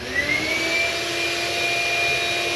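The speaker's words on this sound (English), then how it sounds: "now we got our shop vac. We're gonna go ahead and vacuum this out. It's gonna be a little loud" A shop vac roars loudly and continuously while cleaning out a Tarm Solo wood-fired boiler, a steady high whine with a rising pitch at the start and no voices.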